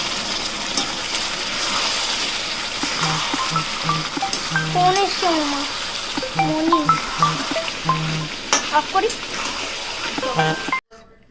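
Chicken sizzles steadily in a pan, cooked without oil for a kasundi chicken dish, while voices talk over it throughout.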